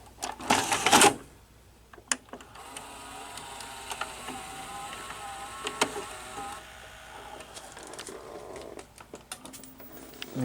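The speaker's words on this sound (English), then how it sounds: "I will insert this tape and let you hear the mechanism" Daytron VCR-32DAU VCR mechanism loading a VHS tape: a loud clatter as the cassette goes in, then motor whirring, clicks and mechanical clunks as the transport threads the tape, fairly close and quiet between bursts.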